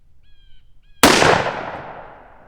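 A single loud, sharp rifle shot is fired over a chronograph during velocity testing, with a long outdoor echo that decays. A few faint bird-like chirps come just before it.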